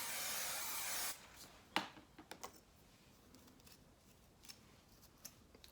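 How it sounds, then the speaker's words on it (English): Hair spray misted onto the edges of the hair, one steady hiss for about a second, then quiet with small handling clicks and taps while the edges are prepared for a lace frontal wig over box braids. "I do spray my edges down just a little bit."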